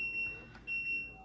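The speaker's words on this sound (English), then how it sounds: "all the other buttons, they have a beep like this" Control panel button beeps from a washing machine showing a CL (child lock) code, sounding as steady high tones that cut off briefly midway, close and fairly clear over a quiet background.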